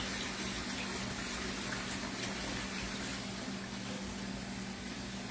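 Soapy water washes a greasy pan on a hot kitchen stove, heard as a steady, continuous rush of running water with a low hum beneath and no talking.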